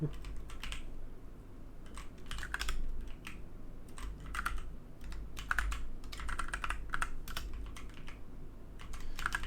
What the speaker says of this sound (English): oh my god, can I type?